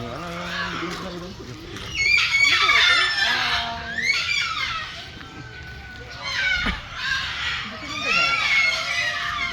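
Turkeys calling and gobbling in bursts, fairly close, with people talking and children's voices mixed throughout.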